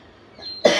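A single sharp, loud cough bursts out close by after a quiet stretch of faint household background noise.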